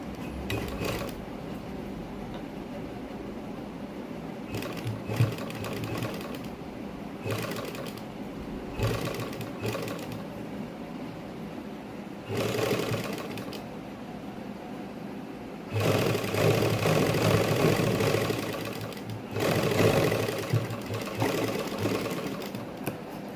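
Sewing machine stitching a sleeve design into plain cloth, its motor whirring in repeated runs with short pauses between bursts, growing louder and steadier toward the end, with no talking.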